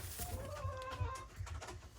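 Backyard laying hens cluck softly in short, scattered calls, faint and close, with brief rising notes in a quiet farmyard.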